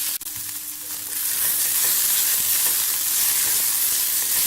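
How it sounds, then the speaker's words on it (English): Onion is sautéed for chicken biryani, giving a loud, continuous close-up sizzle and frying hiss that fills the whole stretch with no talking. "We will be sauteing onion till it is light brown in color."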